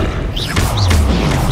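A Confringo blasting spell cast in the video game Hogwarts Legacy, a loud booming burst with crackling impact and whooshing streaks over dense continuous game sound, lasting barely over a second.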